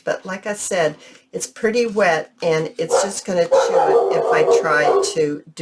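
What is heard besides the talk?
dogs barking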